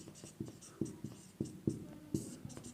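Chalk taps and scrapes on a board during a math lecture on surface area and volume, with sharp knocks arriving irregularly every half second or so and short scratchy strokes between them, close and without voices.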